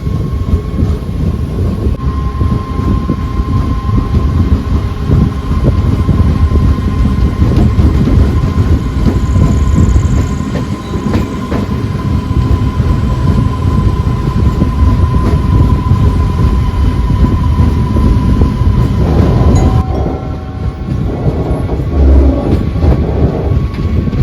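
A Diwali special MEMU passenger train from Panvel to Chiplun rolls along the rails near Mangaon station with a loud, continuous rumble and clatter that shifts in tone near the end, with no voices.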